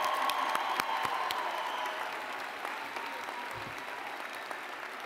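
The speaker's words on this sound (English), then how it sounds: "Let's give these men and women a real round of applause." A commencement audience applauds in sustained, dense clapping that fills the hall from start to finish and slowly fades a little, with faint crowd voices mixed in.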